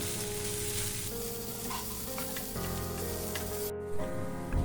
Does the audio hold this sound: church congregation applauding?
no